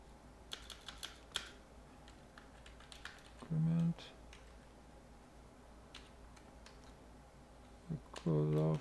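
Code is typed on a computer keyboard in quick, irregular bursts of close, crisp key clicks, with a couple of short spoken remarks between them.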